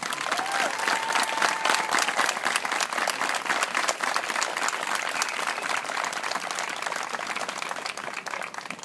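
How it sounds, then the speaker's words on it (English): An audience claps in a steady, dense round of applause at a youth Pop Warner football season dedication ceremony, fairly distant and gradually thinning toward the end. "a big round of applause"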